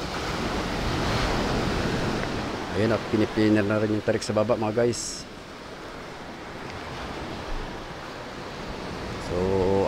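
High-tide sea waves wash steadily beside a boat, a broad continuous surge with wind noise, as someone talks over it in the middle of the stretch.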